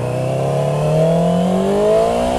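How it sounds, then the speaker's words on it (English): A 2011 Yamaha R6 motorcycle engine revving: a loud, steady, rising engine whine that climbs in pitch across the whole clip, with no talk. "So this is a 2011 R6 here."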